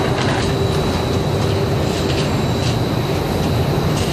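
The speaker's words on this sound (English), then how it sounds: "The batch goes through a 2-hour rinse cycle, and the denim takes a pummeling from the stones" An industrial washer tumbles a batch of denim jeans with stones through a two-hour rinse cycle, giving a loud, dense rumble with constant rattling and clattering.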